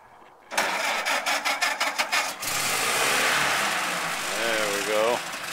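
A rebuilt 1930 Ford Model A engine cranks with a run of rhythmic starter chugs, then catches and settles into a steady idle, with a voice briefly heard over it.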